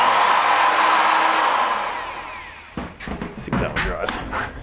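Hole saw running on inverter power inside a welding trailer, a loud close whine that winds down over a couple of seconds, followed by clunks and bumps as it is handled.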